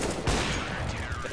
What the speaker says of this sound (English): There goes a shot.